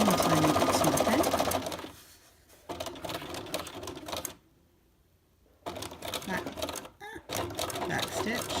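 Sewing machine stitching pleats, with rapid whirring bursts broken by brief pauses and one longer stop, a short back stitch included, while someone talks over it.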